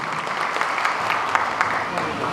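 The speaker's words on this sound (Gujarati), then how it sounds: "જોરદાર તાળીઓના ગડગડાટથી આપણે એમને અભિવાદન કરીશું" Steady applause from the crowd at a community get-together and felicitation event in Surat, dense clapping that carries evenly all the way through without any speech.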